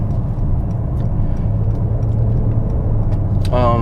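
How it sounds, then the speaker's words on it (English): Steady low rumbling road noise inside a moving 2021 Mercedes-AMG GLC 43, a constant muffled drone with faint tire hum throughout. "I do hear a little bit of road noise, just a little bit"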